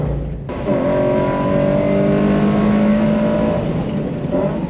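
A race car laps the track at a Pineview Run Long Course trackday, its engine revving loud and close with a rising, strained howl that climbs and holds before easing off slightly near the end.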